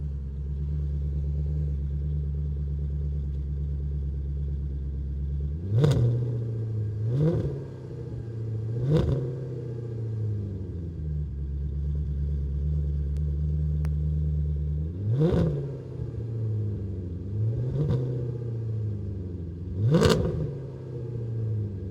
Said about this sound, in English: I'll give this to Aidan, and then I'll just rev the engine